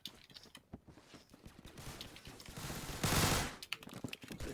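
Rapid automatic gunfire from a new weapon in the Phantom Forces video game comes in quick bursts of sharp cracks, fairly faint, with a denser blast of shots midway.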